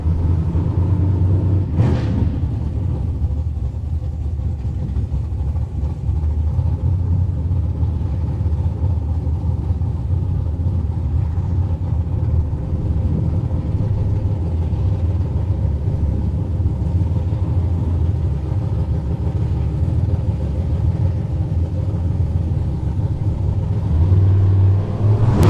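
Camaro Roadster drag race car from Kid Performance and Dyno of Twin Falls, a loud, steady, rumbling engine drone that holds for the whole stretch with little change.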